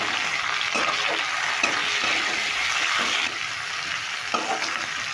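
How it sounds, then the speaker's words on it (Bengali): Chopped tomato stir-fried with onions already browned in a pan, giving a steady close sizzle with several soft stirring scrapes spaced through it. "টমেটোটা দিয়েও একটু নেড়ে ভেজে নিলাম।"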